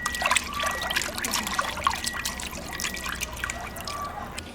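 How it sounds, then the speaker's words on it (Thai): Fish are rinsed under running water in a colander in a home kitchen, a steady close trickle and splash with small drips throughout and no talking. "ล้างล้างให้ทั่วก่อนนะคะทุกคน"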